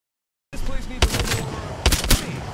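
Bursts of automatic gunfire from an Apex Legends event trailer, sharp loud volleys around the one- and two-second marks after a brief silence, over a steady rumble of game sound.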